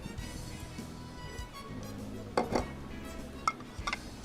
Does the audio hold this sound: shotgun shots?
no